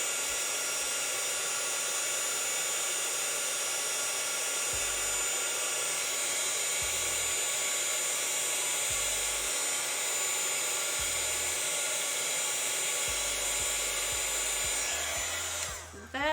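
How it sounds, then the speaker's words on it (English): Heat embossing tool blowing hot air at close range onto a journaling card, a loud steady whirring hiss held without a break for the whole stretch, cutting off at the end. "Let's heat emboss this again to get that to be dry."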